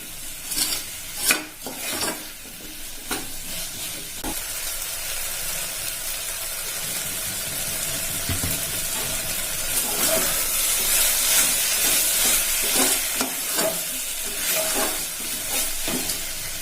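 Ingredients for a Tamil white kurma sautéing in a pan, with a steady sizzling hiss throughout and occasional sharp clinks and scrapes of a spoon stirring against the metal.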